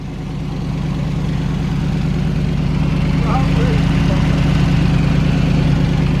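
Ford F-250 engine started cold after sitting for two months, a steady low rumbling idle that swells slightly in loudness, close and continuous.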